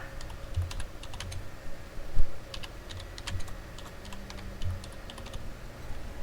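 Steady typing on a computer keyboard, quick light key clicks in an irregular run with a few heavier strokes, close and alone without speech.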